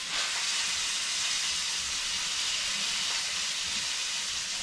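Steady, loud sizzle of a tomahawk steak searing on its edge as the fat renders, an unbroken hiss throughout.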